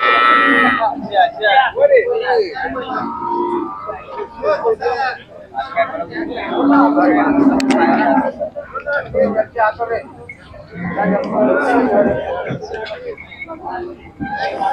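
Khillar cattle moo repeatedly, loud and close, while several people talk over and between the calls at an outdoor Sangola livestock market.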